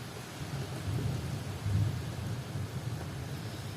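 Thunder rolls during a thunderstorm, a low, moderately distant rumble that swells and fades over a few seconds, with rain hissing steadily underneath.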